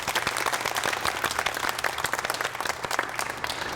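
Audience applause for award winners at a prize ceremony, a dense steady wash of many hands clapping close by for the whole stretch, with no voices standing out.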